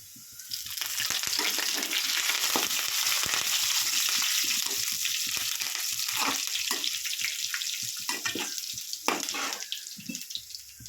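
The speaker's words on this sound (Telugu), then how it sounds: "ఇప్పుడు కొంచెం మనం కరివేపాకు వేసుకుందాం." Curry leaves sizzle in hot oil for semiya upma, a loud, continuous crackling fry with bursts of spitting and sputtering, close up and without speech.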